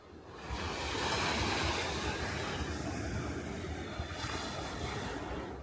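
Sea waves washing onto the East Sea coast near Jeongdongjin, a loud continuous surf roar mixed with wind rush, swelling early and holding steady.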